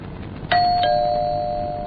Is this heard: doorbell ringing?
yes